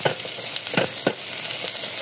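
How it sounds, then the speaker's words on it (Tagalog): Sautéed moringa leaves stirred in a hot pan with a steady sizzle, broken by a few soft scraping strokes of the spatula, close up and with no talking. "Halo-halo lang natin."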